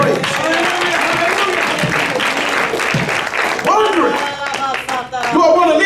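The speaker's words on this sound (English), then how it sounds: "Somebody get a load of hand clap of praise." A church congregation claps in praise, loud sustained applause filling the space while voices shout and sing over it throughout.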